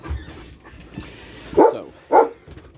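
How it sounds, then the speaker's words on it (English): A dog barks inside a cabin on a homestead, two sharp, fairly close barks after a short quiet stretch with faint room noise. "we're going to go in this cabin, but there's going to be barking"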